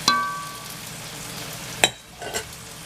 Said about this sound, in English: now we're going to add our jars of sauce